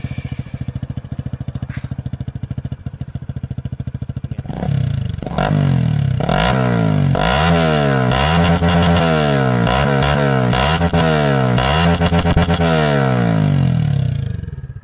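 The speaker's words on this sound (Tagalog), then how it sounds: "So, i-sound check natin with silencer." A motorcycle with an aftermarket pipe and silencer idles with a rapid loud pulse, then revs up and down repeatedly in close, throaty surges before settling back, with no talk.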